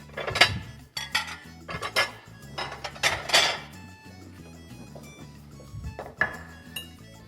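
A large plate being picked up and handled among other dishes, giving clattering ceramic clinks and scrapes in several bursts, close and fairly loud, with quieter gaps between.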